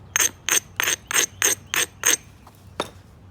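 Direct percussion on an old, internally oxidized rock, struck down into a seam: seven evenly spaced sharp knocks, then two lighter taps after a short pause, close and clear with no talking.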